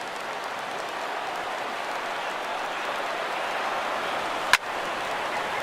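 A packed baseball stadium crowd of over 39,000 during a Dodgers versus Rockies game, a dense, steady roar of cheering and applause with one sharp crack near the end.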